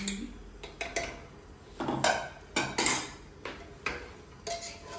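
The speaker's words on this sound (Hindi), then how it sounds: "अब इसे एक बारी चला करके छोड़ देते हैं" A spoon scrapes and clanks against a metal pot while mutton curry is stirred, giving a series of irregular close metallic knocks and scrapes over a quiet kitchen background.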